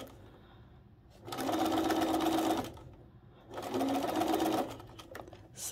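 A sewing machine stitching quilt pieces for a Wedding Ring quilt runs in two bursts of about a second each, separated by a short pause, close and steady.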